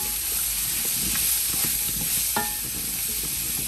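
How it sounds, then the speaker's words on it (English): Garlic powder and onion powder frying in a pot of oil, stirred now and then; a steady close sizzle and hiss runs throughout with faint scraping of the spoon and no talking. "I'm gonna give this a minute or so to fry up"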